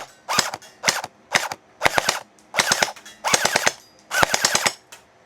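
A gel blaster toy gun fires in seven or eight short rapid-fire bursts of sharp snapping shots during a velocity test, close and loud, with brief pauses between bursts.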